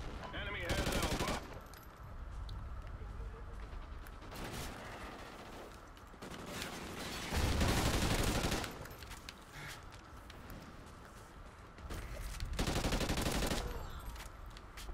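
Gunfire from Call of Duty Ghosts online multiplayer, with loud bursts of automatic fire near the start, around the middle and near the end, over steady game background noise and occasional voices.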